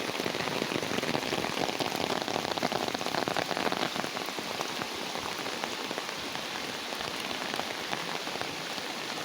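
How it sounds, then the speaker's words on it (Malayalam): Heavy rain pours down in a dense, continuous roar of drops, loud and unbroken from start to finish. "നല്ല മഴയാണ്"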